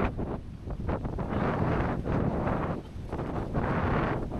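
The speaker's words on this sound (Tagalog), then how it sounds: "Lakas ng hangin." Strong wind gusts outdoors near Mayon volcano buffet the microphone in loud, surging rushes that rise and fall over several seconds, with no clear speech.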